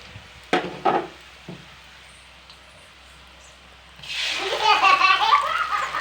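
Onions fry in oil for a Bengali mutton curry: a few short knocks and scrapes come first, then a fairly loud hissing sizzle rises and holds through the final two seconds.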